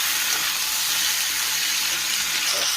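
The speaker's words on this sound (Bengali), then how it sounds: "চিকেনটা দেওয়া হলো, ভালো করে নাড়িয়ে নেওয়া হচ্ছে" Chicken sizzling and frying in a pan as it is stirred while cooking a Bengali chicken curry: a steady, loud hiss that runs unbroken throughout, with no talking.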